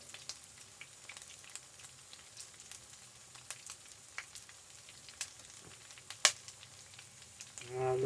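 Cheesy bacon grits fry in a pan, a faint steady sizzle with scattered pops and crackles, one sharper snap near the end as something shifts in the pan.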